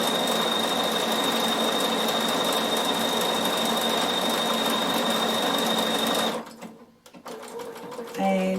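A Bernina sewing machine runs steadily while stitching a machine embroidery design with mylar, a close, continuous whirring hum that stops near the end, followed by faint handling sounds.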